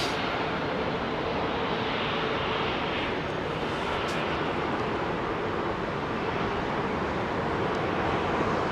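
A Boeing 737 departing runway 27R at London Heathrow Airport, heard up close as a loud, steady jet engine roar with broadband rushing noise that holds for the whole stretch, with no voices.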